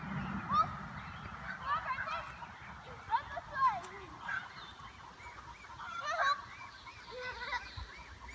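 A goose in a backyard pool honks repeatedly in irregular bursts, some louder and some fainter, over a low outdoor background.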